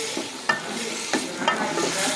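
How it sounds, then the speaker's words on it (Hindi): Vegetables being stir-fried in a pan, a steady close sizzle broken by a few sharp stirring scrapes at irregular intervals, loud and with no voices. "अब मेन चीज़ है सब्ज़ी को डाल के अच्छे से भूनना है हमने"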